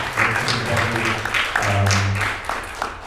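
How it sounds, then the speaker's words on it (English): An audience at a film Q&A in a theatre claps for the director, a short stretch of scattered applause mixed with overlapping voices and cheers. "just a huge round of applause again for Director Tran Nguyen"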